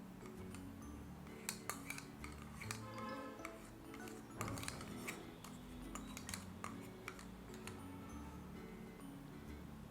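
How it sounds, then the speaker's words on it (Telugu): A spoon stirs aloe vera gel with other ingredients in a small bowl, giving faint, close ticking clinks against the dish in an irregular rhythm. "ఇప్పుడు ఈ మూడింటిని మనం మిక్స్ చేయాలి."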